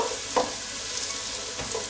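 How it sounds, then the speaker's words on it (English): Onions sauté in melted butter in a single pot, producing a constant close hiss with a couple of brief scraping stir sounds over it. "We're going to saute the onions for about 3 minutes"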